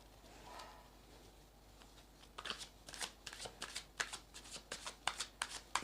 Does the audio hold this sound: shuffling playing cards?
yes